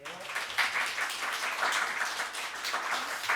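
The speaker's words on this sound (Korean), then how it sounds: "우리 박수로 환영해 주세요." Church congregation clapping to welcome the pastor at a Sunday service, a steady wash of applause filling the room at even loudness for a few seconds with no talk over it.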